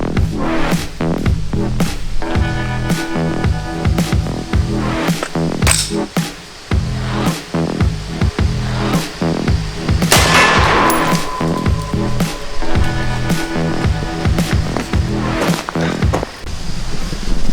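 Rapid, loud gunshots from an extended-barrel gun ring out at homemade plinking targets, a dense string of sharp cracks repeating throughout with barely a pause.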